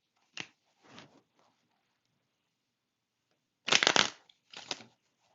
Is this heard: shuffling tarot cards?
yes